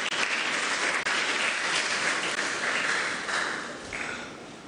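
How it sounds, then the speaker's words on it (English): Congregation applauding the Anglican Bishop of Accra during a Sunday Eucharistic service at an Anglican church in Nungua, Ghana; dense, steady clapping fills the room at full strength, then thins slightly toward the end. "Let's clap for him."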